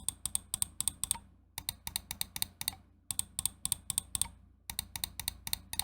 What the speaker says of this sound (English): In terms of side button audio feedback, I'll give you a quick little sound test here.